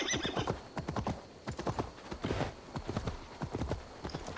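A horse gallops in Assassin's Creed Valhalla, its hooves beating in a quick, steady clip-clop rhythm close up, with a brief whinny and no talking.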